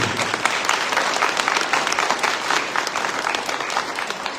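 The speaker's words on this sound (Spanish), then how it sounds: "Un aplauso a esos papás y mamás. Denle el aplauso fuerte." An audience gives parents a sustained round of applause, dense steady clapping from a large crowd filling the room with no speech over it.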